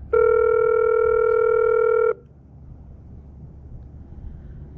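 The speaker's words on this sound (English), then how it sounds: "I'll go to my directory on the phone and I'll dial this, which is my home extension" A desk telephone on a PBX plays a single steady tone for about two seconds while dialing a home extension, then cuts to quiet line hiss with no pickup.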